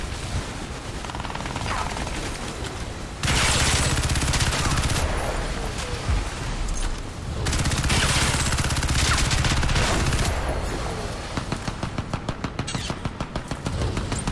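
Rapid automatic gunfire in Crysis 3 multiplayer, long loud bursts of fast shots broken by short pauses, with a player talking over the shooting.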